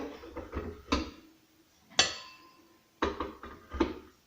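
Plastic blades and discs of a KitchenAid 2.1-litre food processor are stacked into storage, making four separate hard clacks and knocks spaced about a second apart, each ringing briefly before fading.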